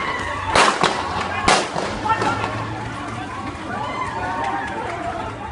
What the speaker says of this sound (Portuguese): os agentes foram recebidos com tiros